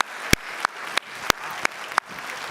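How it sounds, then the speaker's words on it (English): Scattered applause from a modest audience at an 8th grade academic bowl, with a steady wash of clapping broken by a few sharp, louder claps, moderately quiet overall. "Let's give them a big round of applause."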